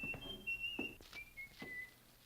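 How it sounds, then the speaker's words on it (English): A person whistles a short, soft tune of a few sustained notes, faint and close, with light background noise. "He slammed the front door and he was whistling."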